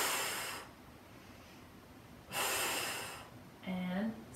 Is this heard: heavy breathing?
yes